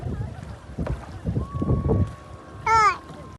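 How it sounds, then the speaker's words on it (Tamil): A small rowboat moves across open water near Paradise Beach, Pondicherry, with low rumbling wind and water noise, soft paddle splashes, and a brief tonal call near the end. "இந்த குட்டி படகுல பார்த்திங்கன்னா நம்ம துடுப்பு போட்டு போகிறது சூப்பராக இருந்துச்சு"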